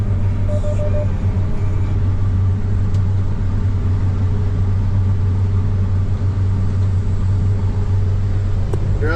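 Inside a combine harvester cutting double crops, a loud, constant engine rumble and droning hum fill the cab without a break, with a faint clunk near the end.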